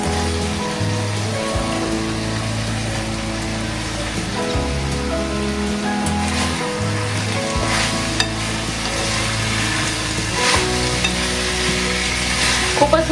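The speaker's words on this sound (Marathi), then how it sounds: "आता इथे कापलेली कंटोळी आपण टाकून घेऊया।" Chopped spiny gourd (kantola) stirs in a hot pan of cooking vegetables, giving a steady crackling sizzle broken by repeated scraping and stirring sounds, all fairly close and without talk.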